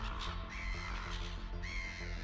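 Wild ravens cawing in a steady, rhythmic run of harsh calls, fairly close and loud over a dense, busy background with no talking.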